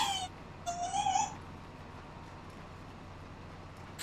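A 14-year-old cat gives a couple of short, thin meows close by in a quiet room, then falls silent against low background hum.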